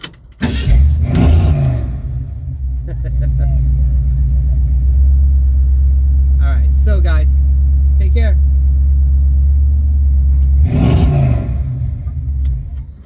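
A car engine starts and idles with a steady low rumble, rising slightly as it revs, running loud and close throughout while someone talks over it.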